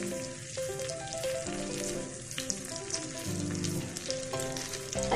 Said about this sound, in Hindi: मक्खन जो है वो हो गया है मेल्ट तकरीबन और इसमें मैंने ऐड कर दी ये ग्रीन चिलीज